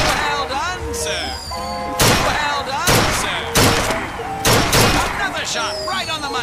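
Loud, sharp gunshots at a shooting gallery in Bioshock Infinite, four separate cracks spaced about a second apart, with a voice announcer talking between and over them.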